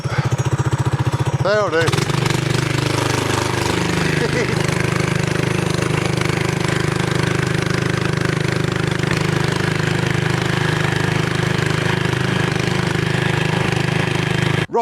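A Briggs & Stratton small engine on a mini trike with a torque converter runs loudly and steadily at close range throughout, while someone speaks over it briefly.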